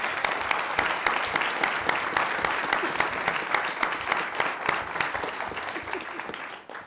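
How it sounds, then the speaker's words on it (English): Steady applause from a city council meeting audience welcoming new law enforcement leadership, dense and sustained for several seconds before tapering off at the end. "let's just welcome our new law enforcement leadership with a round of applause"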